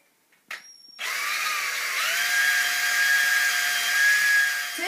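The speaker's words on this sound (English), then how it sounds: "drill hole same size as the cable" A power drill whines steadily after a brief click while drilling a cable-sized hole in a go-kart, its motor pitch holding high and loud for several seconds with a slight shift midway.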